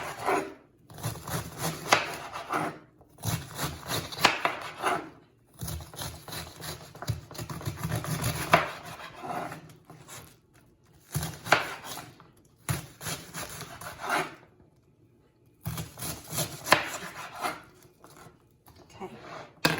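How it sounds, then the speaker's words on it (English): A knife chops red cabbage into smaller pieces on a board, with repeated bursts of fairly close, rhythmic cutting strokes separated by short pauses. "Turn it the other way and chop to make my smaller pieces."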